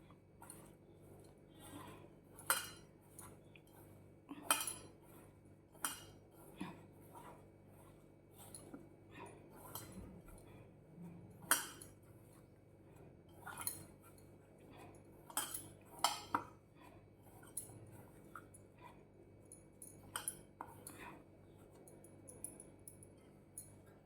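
A spoon stirs mashed potato and sabudana tikki mixture with added sabudana powder in a bowl, giving irregular clinks and scrapes against the bowl over a quiet background, with no talking.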